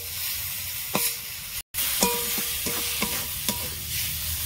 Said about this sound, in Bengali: আমটা আমি তেলের মধ্যে দিয়ে দিয়েছি। ভালো করে এইভাবে ভাজা ভাজা করে নেব।